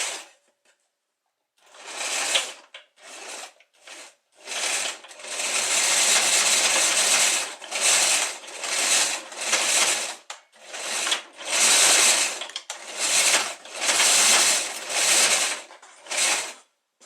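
A sewing machine zigzag-stitches across a flat seam on machine-knitted fabric for an A-line skirt, running in quick bursts of steady buzzing whir broken by short pauses, close and clear with no talking.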